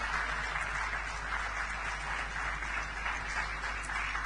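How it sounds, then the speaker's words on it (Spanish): Church congregation applauding during a Spanish-language service, a continuous wash of many hands clapping at a steady level over a low background hum. "Dale un fuerte aplauso al Señor"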